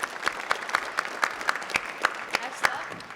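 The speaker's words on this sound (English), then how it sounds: "Give them a round of applause." Audience applause for a hackathon team at an awards session, heard as a thin, regular pattern of distinct claps at moderate distance over a faint room hum.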